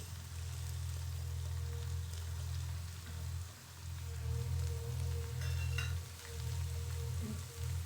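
Soaked moong dal tipped into spinach frying in a pan, a steady close sizzle with brief stirring scrapes and a low hum underneath, continuous throughout.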